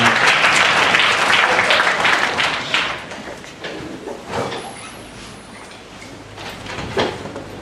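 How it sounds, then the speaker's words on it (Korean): A church congregation at a young adults' service applauds in glory to God: loud, full clapping that gradually thins and softens, with a brief swell near the end. "하나님께 영광의 박수 돌리겠습니다."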